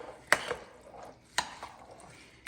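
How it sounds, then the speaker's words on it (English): Baked beans mixture being stirred, with a few faint, sparse clicks and scrapes of a spoon against the dish over a quiet background. "And then we just mix it up."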